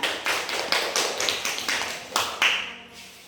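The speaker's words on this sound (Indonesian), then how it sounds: "Beri tepuk tangan." Students in a classroom giving a short round of applause, sharp claps with irregular rhythm at moderate loudness, fading at the end.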